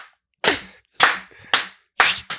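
Four sharp, separate claps added as a sound effect on a podcast, evenly spaced about half a second apart, loud and close with silence between them.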